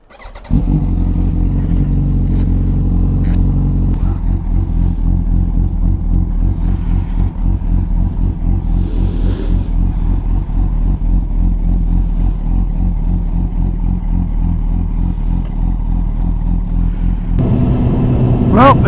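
A motorcycle on a road runs loud and close, its engine droning and pulsing through rising revs with a fast quick-shifter change, roaring steadily for nearly twenty seconds before a final surge.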